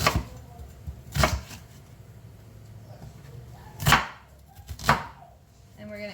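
A knife chops an onion into large chunks on a cutting board, four sharp, close thumps spaced irregularly with quiet gaps between them, and no voices.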